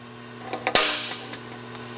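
A single sharp metallic snap rings out from a spring-loaded automatic center punch firing, surrounded by a few faint clicks and a low steady hum.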